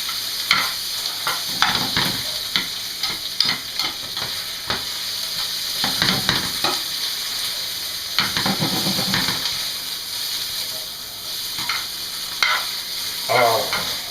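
Scallions sauté in a hot pan with a steady sizzle, broken by repeated scraping and clanking of a utensil stirring them, loud and close with irregular bursts throughout.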